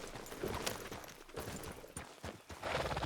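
A horse's hooves clop along in Red Dead Redemption 2, quiet and fairly rhythmic, with faint hoofbeats and a background hum and no speech.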